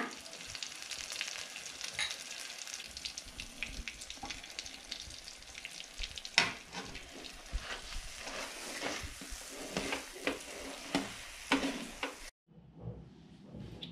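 Ragi mudde with ghee cooks on a low flame, giving a quiet, steady sizzle and bubbling with scattered soft pops and stirring clicks, which cuts off near the end.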